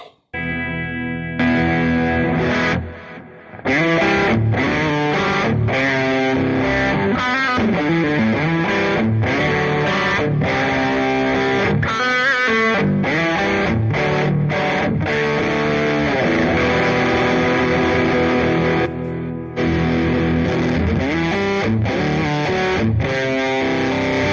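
A heavily overdriven electric guitar through a Boss OD-20 in Guv'nor mode chugs and rings through a gritty distortion, playing loud choppy chords and riffs with brief stops.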